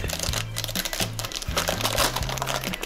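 Plastic bags holding parts of an ICM 1/35 Ford Model T RNAS armoured car model kit crinkle steadily up close, loud and continuous in quick bursts, with no talk over them.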